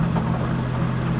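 A 1000-horsepower 2JZ engine with a custom twin-disk clutch idling as it is put into second gear, a steady deep rumble heard alone and close for a brief moment.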